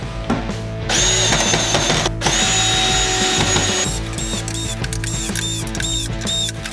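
Power drill driving screws into the underside of an outdoor wooden chair, with whirring bursts and ratcheting clutch clicks, close and loud, in several runs broken by short pauses.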